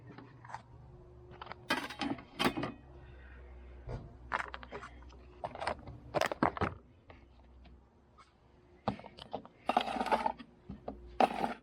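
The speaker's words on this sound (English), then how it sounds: "The contents of the Trangia kit all pack away neatly inside itself." Parts of a Trangia camping stove kit being nested and packed away inside one another, giving a series of light metallic clinks, rattles and scrapes in irregular bursts, close and fairly quiet.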